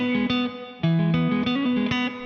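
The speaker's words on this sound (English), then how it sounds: "we get each chord up to speed individually, but then we have a gap between each chord" An electric guitar plays the chords of a song through effects, with distorted strums and brief breaks between chord changes, no voices.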